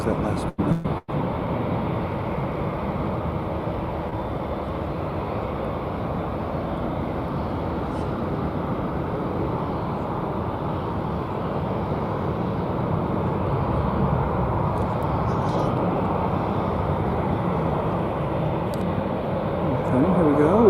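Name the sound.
Boeing 787 Dreamliner taking off at DFW Airport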